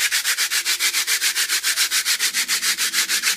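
Two pieces of burnt toast scraped against each other, making a loud, rhythmic rasping that repeats about seven times a second with a steady back-and-forth stroke, close up and alone.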